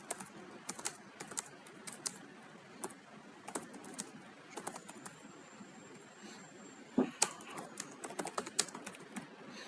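Someone types a VBA code comment on a computer keyboard, with irregular bursts of light, close key clicks and a few sharper taps, fairly quiet, with no talking.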